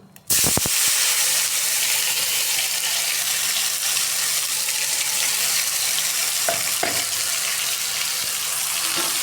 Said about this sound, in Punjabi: ਆਪਾਂ ਪਾਇਆ ਸੀ ਕੜਾਈ ਵਿੱਚ ਤੇਲ ਤੇ ਹੁਣ ਆਪਾਂ ਪਾ ਦਾਂਗੇ ਮਸਾਲਾ